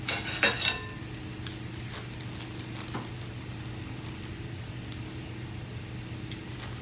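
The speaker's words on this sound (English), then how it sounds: "So here's where the tongs come in." Metal tongs clink sharply a few times against a dish while lifting pickled local shrimp for a garnish, then only a faint steady room hum remains.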